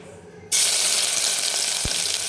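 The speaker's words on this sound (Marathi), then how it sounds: "तेल छान आपलं गरम झालेलं आहे याच्यानंतर आपण आल्या लसणाची पेस्ट टाकून घेणार आहे" Ginger-garlic paste dropped into hot oil sets off an abrupt, loud, close sizzle that holds as a steady bright hiss, with one soft knock partway through and no one speaking.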